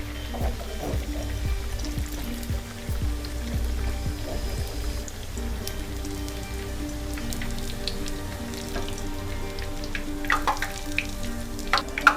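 Chicken cutlets fry in hot oil, a dense, even crackle and sizzle like rain that continues steadily, with occasional louder pops near the end.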